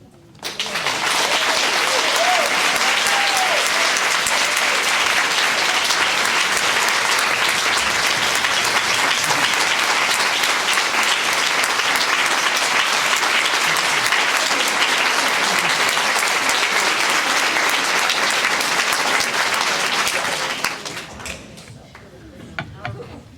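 Sustained, loud applause from an audience at a grant awards event honoring its speakers rolls on evenly for about twenty seconds before tapering into a few scattered claps.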